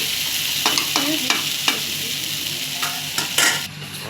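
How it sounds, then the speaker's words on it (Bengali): Steady sizzling from potatoes frying in a pan with onion and black cumin, with occasional scraping and stirring clatter from a spatula. "এদিকে আলু ভাজাও প্রায় অনেক দূর হয়ে যাচ্ছে"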